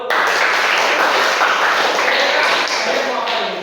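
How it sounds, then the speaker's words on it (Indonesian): School audience at an Indonesian junior high session claps hands together, a dense, steady burst of applause lasting a few seconds at close range. "Oke, tepuk tangan dulu."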